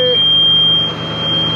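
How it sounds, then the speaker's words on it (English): A tractor beeps as it powers on with a battery booster connected: a steady, high electronic tone sounds continuously and loudly through the whole moment. "Beeping."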